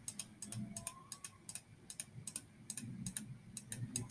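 Rapid computer mouse clicks repeat in quick, uneven bursts while fur is painted on a bunny image in a digital canvas program, close and crisp over a low room hum.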